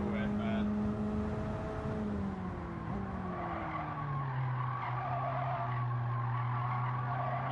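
Race car tires squealing through a long drift on the Tsukuba circuit in a racing video game, a continuous loud screech whose pitch slides downward over engine drone, with someone talking over it.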